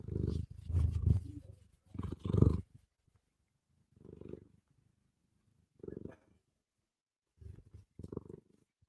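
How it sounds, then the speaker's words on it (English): A domestic cat purrs close up in slow rhythmic bursts, a deep rumbling vibration swelling and fading with quiet pauses between breaths. "that's a kitty cat purring"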